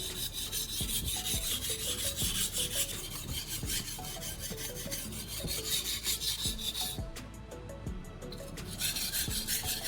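A metal blade is sharpened on a coarse grit stone in steady, rhythmic back-and-forth rasping strokes, close and continuous.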